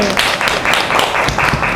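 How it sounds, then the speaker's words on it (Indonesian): Classroom of students clapping together at the end of a mathematics lesson, brisk close clapping in quick bursts with voices underneath. "Kita tepuk tangan buat hari ini."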